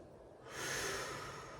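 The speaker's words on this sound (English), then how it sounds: "Take 2 deep breaths in." A single deep breath drawn in through the nose during a home mat workout, faint at first and then swelling into a steady airy inhale lasting about a second, with no talking.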